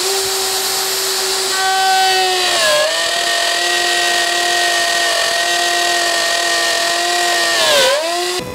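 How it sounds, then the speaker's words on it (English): A wood router cutting dovetail-shaped slots in a candlestand stem while a tool-triggered shop vacuum sucks up chips, a loud steady motor whine with pitch dips as the bit loads into the wood, continuous and close. "So I have my router connected to a tool-triggered vacuum, which will suck up most of the chips."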